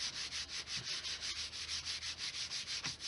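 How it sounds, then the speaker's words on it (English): Card stock pressed and rubbed down onto a card to make it hold, a soft, steady rhythmic rubbing with repeated strokes close by and no talking. "I'm just going to pop that on like so and give it a light press, flip it over"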